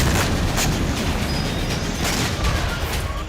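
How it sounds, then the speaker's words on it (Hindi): An explosion at a Russian military base in Novofedorivka, Crimea, heard as a loud, continuous, rumbling roar with crackling bursts that fill the whole stretch without letting up. "क्रीमिया के नोवो जर्नी में धमाका हुआ।"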